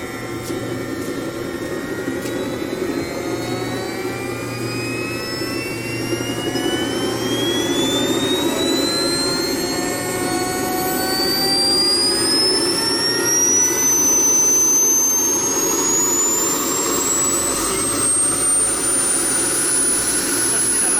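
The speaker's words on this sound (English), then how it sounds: "It's going to start itself. Now RPM is higher and higher." A jet engine spools up by itself with a rising whine that climbs steadily in pitch over a constant loud roar, heard close for a long sustained stretch.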